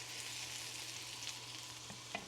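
Burgers frying in a worn frying pan give a steady, close sizzle throughout, with a couple of faint scrapes or clicks near the end and no talking.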